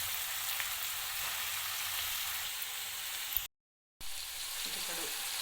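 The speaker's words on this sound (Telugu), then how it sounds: "కొన్ని టమాటాలు కొద్దిగా మనం ముందుగా కట్ చేసి పెట్టుకుని బీరకాయ ముక్కలు వేసుకోవాలి." Ridge gourd pieces fry in a hot pan for a tomato curry, giving a steady, close hiss of sizzling oil that cuts out to silence briefly before resuming.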